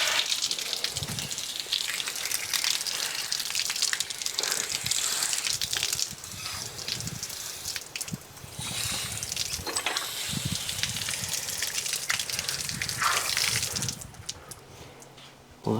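Steady gush of water flowing through the coolant passages of a 500HP B-series engine, a continuous loud rushing with splashing surges that fills the whole stretch and eases off near the end.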